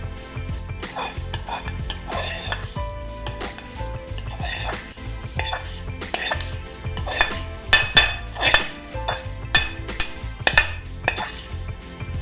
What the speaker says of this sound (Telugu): ఇందులో ఈ పోపు వేసేసుకుందాం.